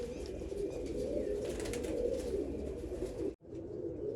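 Low, continuous pigeon cooing close by, a soft rolling murmur that keeps going before a short break and resumes.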